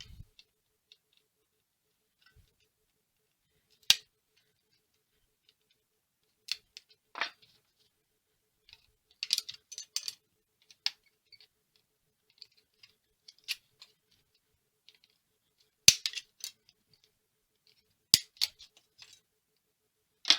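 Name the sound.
snips cutting a beveled edge of a plate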